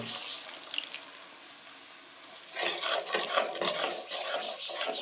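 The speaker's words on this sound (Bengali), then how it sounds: "আমি দিয়ে দেবো জল।" Water is poured into a yogurt paste in a hot cooking pan for a fish curry; a rushing, sizzling splash swells up halfway through and continues, close and fairly loud, after a quiet start.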